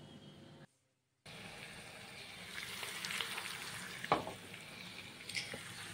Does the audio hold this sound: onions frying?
yes